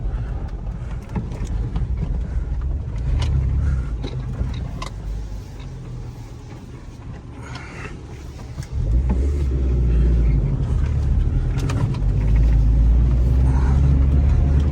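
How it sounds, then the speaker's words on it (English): A Geo Tracker in two-wheel drive climbs a hill off-road, its engine a steady low rumble that surges louder and heavier partway through, with no talking. "Let's see if we can get up around here in 2-wheel drive."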